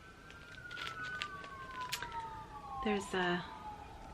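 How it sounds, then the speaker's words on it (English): An ambulance siren wails as it passes outside, its falling tone fairly faint and distant, with a person talking briefly over it. "second ambulance. Oh dear, must have been an accident down the road."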